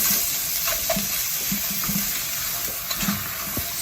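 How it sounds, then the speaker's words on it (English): Frozen spinach is stirred into a simmering potato curry in a pan, with a continuous sizzle and soft repeated scraping strokes from a spoon. Nobody talks. "We're going to add our spinach. We've used frozen spinach. Give that a mix around."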